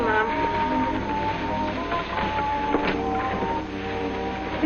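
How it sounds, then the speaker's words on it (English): A 1950s washing machine churns heavy household laundry such as pillows, bedspreads and blankets, giving a steady loud mechanical hum and rumble with faint rhythmic sloshing and no voices. "Isn't it wonderful how this washer does all these heavy things?"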